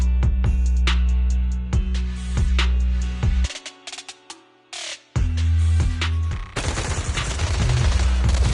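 Heavy automatic gunfire in Zenless Zone Zero combat, loud rapid repeated shots over a deep bass drone, a brief lull, then renewed dense firing and bursts.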